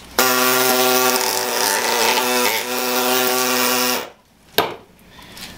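Renfert Pillo deflasking unit working on an Ivobase flask: a loud, steady buzzing drone with strong harmonic tones runs close-up for about four seconds, then cuts off, followed by a sharp knock and quiet handling.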